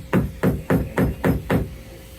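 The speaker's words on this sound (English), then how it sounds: "So we're literally hammering our window." A hammer strikes an epoxied-in boat window in a boatyard six times in a steady rhythm, each blow a dull, close thud spaced about a quarter second apart, with no talking.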